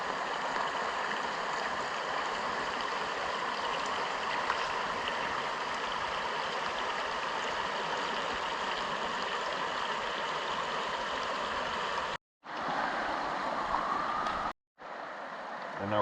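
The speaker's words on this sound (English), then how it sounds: "So we're going to head down to the creek and get our water filled up for the night" Creek water in the Great Smoky Mountains flows in a steady, soft rushing wash at a moderate distance, broken by two brief cuts to near silence toward the end.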